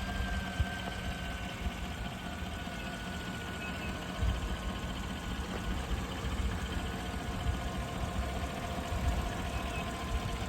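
The engine of a 2014 Chevrolet Silverado idles steadily in the open engine bay, a continuous even rumble with a faint high whine and no talking.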